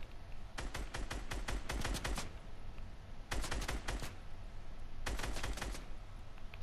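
Rapid gunfire in Fortnite comes in three sharp volleys of quick automatic shots, each lasting about a second, loud and close, with brief quiet gaps between bursts.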